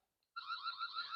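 An outdoor Real-Link camera system alarm begins after a moment of silence with a steady, warbling electronic tone that sounds faint and distant.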